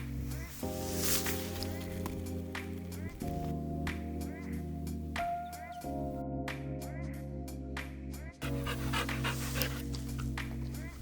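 A dog pants steadily and rapidly up close, over a constant background hum with a few brief interruptions.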